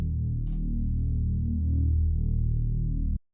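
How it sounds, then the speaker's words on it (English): A Reese bass from a beat sample in FL Studio plays as a steady, loud, sustained low drone, alone for about three seconds before cutting off abruptly. "the loudest sound is my Reese bass here"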